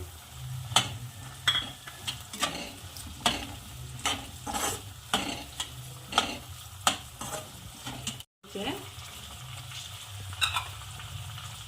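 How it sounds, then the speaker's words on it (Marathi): Green peas and chilies are stirred into softened onions in a frying pan for matar pulao, with repeated scraping strokes of a spoon at an uneven rhythm over a soft, continuous sizzle. "आता यामध्ये वाटाणे ॲड करते आता मिरची ॲड करते"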